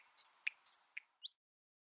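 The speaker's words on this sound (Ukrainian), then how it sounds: "недалеко від них заспівав соловей." A nightingale sings nearby outdoors, giving a few clear, whistled high chirps and short trilled notes separated by brief pauses, with no other sounds around it.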